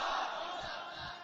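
A gathering at a religious talk chants a slogan in unison, a brief, faint, sustained crowd shout.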